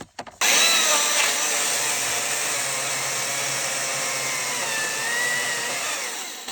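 Battery chainsaw in eco mode cutting through a log, a steady loud high whine that starts abruptly after a short pause and holds evenly for several seconds before slightly easing off.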